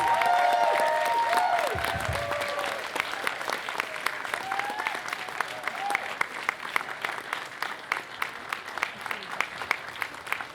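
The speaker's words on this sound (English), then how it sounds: "Everybody give our guest of honor a round of applause." Audience applause fills a convention hall at a furry convention's closing ceremony, loud and steady at first, then thinning into scattered individual claps toward the end, with no talking over it.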